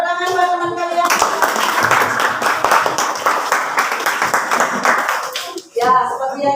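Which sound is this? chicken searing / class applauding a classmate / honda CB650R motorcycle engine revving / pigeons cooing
class applauding a classmate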